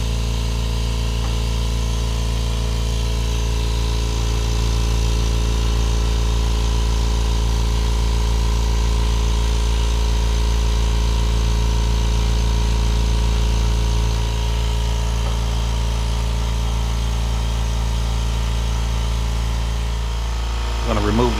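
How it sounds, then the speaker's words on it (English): A Kobalt Quiet Tech air compressor runs close by with a steady, even mechanical drone and motor hum that holds constant throughout, with only a slight shift near the end. "I'm only a foot away from the air compressor."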